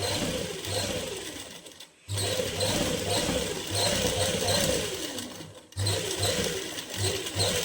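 A sewing machine runs in fast, steady bursts, stitching a seam on a winter suit, with two brief pauses where the motor stops and restarts.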